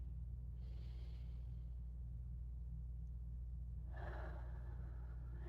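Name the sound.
deep breath during relaxation exercise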